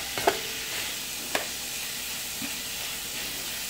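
Food fries in a pan at home with a steady, bright sizzle and hiss throughout, broken by a couple of brief clinks of stirring, close and even, with no talking.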